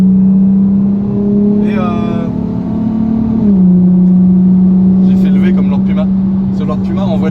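A Nissan Skyline R32 engine holds a steady drone, then its pitch shifts partway through as it revs, with faint talk and some higher clatter toward the end.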